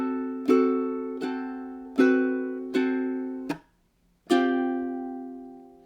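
Ukulele strums: six bright chord strokes, each left to ring and decay, close and clear, with a short silent gap before the final strum.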